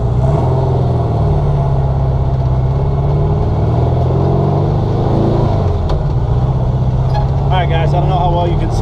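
A sand car being prepped for the Glamis dunes runs with a loud, steady engine drone that builds as it pulls away, with people talking over it.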